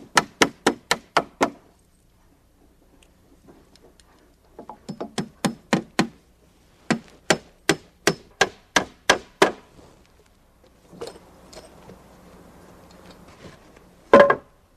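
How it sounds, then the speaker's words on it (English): Hammer blows drive nails through a deck rim joist into a wooden stair carriage, landing in quick, sharp bursts of about six close strikes, then a pause before the next run, with a final louder whack. "At the top, I nail through the rim into the carriage and add a clip."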